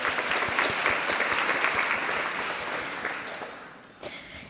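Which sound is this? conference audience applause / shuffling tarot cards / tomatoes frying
conference audience applause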